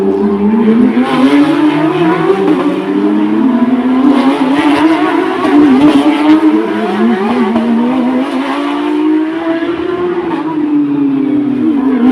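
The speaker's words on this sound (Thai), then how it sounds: "เบรกล้อลากเลยครับ" A Porsche race car at the Bang Saen Grand Prix braking hard with locked wheels, a loud sustained tire squeal whose pitch slowly rises and falls over engine noise, heard close.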